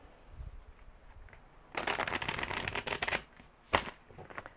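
A deck of cards being shuffled during a Life Path 2 numerology reading: a quiet pause, then a long crisp riffle of fanning cards and one shorter snap of shuffling after it, close and fairly loud.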